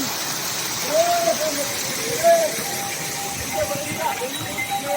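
A waterfall dropping from a great height on the Kedarnath trek gives a steady broadband rushing roar throughout, with a voice talking over it and faint trail sounds.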